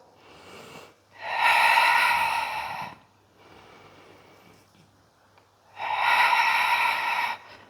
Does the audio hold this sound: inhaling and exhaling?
yes